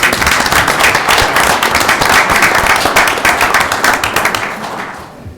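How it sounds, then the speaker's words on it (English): Sustained applause from a room of attendees at a city council meeting, steady dense clapping throughout that tapers off near the end. "let's give them another round of applause"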